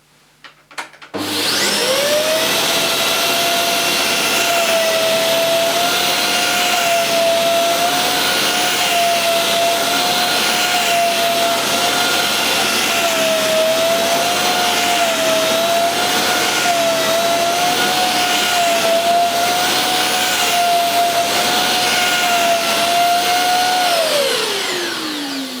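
A Dyson CY22 Cinetic Big Ball Animal vacuum cleaner with its carbon fibre turbo tool runs on a living room carpet, lifting pet hair. A loud, steady motor whine runs alone for about 23 seconds, then winds down.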